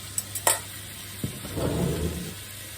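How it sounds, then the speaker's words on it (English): Flaked salt fish goes into a hot pan of vegetables for ackee and salt fish, with a few utensil clanks and then a rising sizzle as it is stirred, close and alone. "This is the stage to add in the flaked salt fish."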